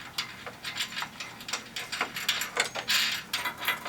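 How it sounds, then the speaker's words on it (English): A nut being screwed down by hand onto a Midland MXT275 antenna mount on a Toyota Tacoma, a steady close run of fast ratcheting clicks lasting a few seconds, with no talking. "you'll take your nut and you'll just screw that right on in"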